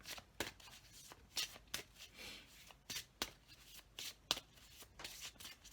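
Tarot cards being shuffled by hand in repeated riffles and bridge-like bursts, crisp papery flutters with sharp clicks spaced about a second apart, close and fairly quiet.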